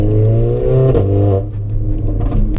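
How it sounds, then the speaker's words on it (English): A Mercedes-AMG GLA 45 engine blips and rumbles loudly up close as it downshifts under hard braking, with rising rev bursts between gear changes. "Downshifting when you're hard on the brakes is great too, as you can see right now."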